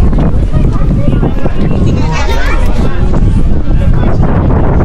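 Strong wind buffets a microphone outdoors at Ghost Lake in Canada on Canada Day, producing a loud, continuous low rumble and roar with gusty swells that bury everything else.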